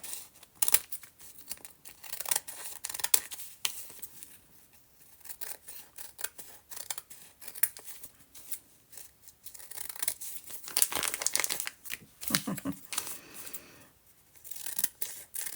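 Scissors snip and paper rustles and crinkles while journal covers are being crafted, with close, irregular cutting strokes, tearing and handling noises that come in bursts with short quiet gaps.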